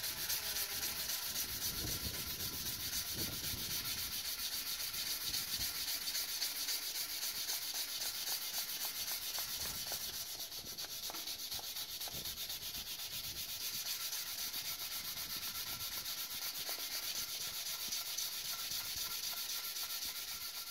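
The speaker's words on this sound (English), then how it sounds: "So we've done all the sanding," Continuous rasping of sandpaper rubbing against cedar wood, steady and close, with rhythmic back-and-forth strokes and no voices.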